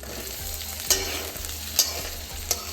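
Chopped onions sizzle in hot oil with bay leaf and dried red chilies in a pan, a steady close crackle broken by three sharp stirring scrapes, with no talking.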